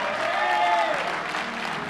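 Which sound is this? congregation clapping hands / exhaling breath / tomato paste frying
congregation clapping hands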